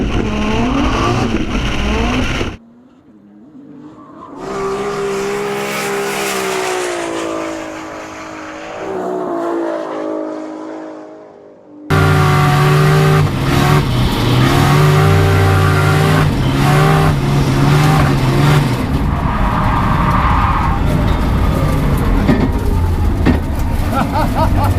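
A modified Nissan GT-R record car roars loudly as it drifts, its engine revving and surging with tire noise; an earlier quieter stretch carries a steady engine drone with talk.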